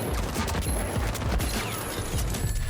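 Rapid bursts of gunfire from the Ranger Sequoia in The Finals, a dense volley of close, loud shots in quick succession with mechanical clatter, heard alone without talk.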